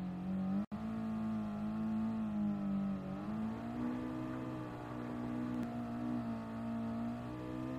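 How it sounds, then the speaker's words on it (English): Engine of a Gran Turismo 7 race car revving hard on a wet track in second gear, a steady loud harmonic drone that climbs and holds, with one brief dropout near the start and no voices. "I chose to rev it out here as I felt this gave me more speed."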